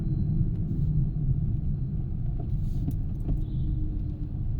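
Manual car crawling in second gear at about 10-12 km/h through Delhi city traffic, a steady low engine and road rumble with faint rattles, no talking.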